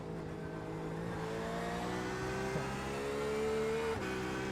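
A race car engine from the iRacing game at Le Mans drones at a steady high pitch, with the tone sliding and briefly dipping at shifts, heard alone without voices.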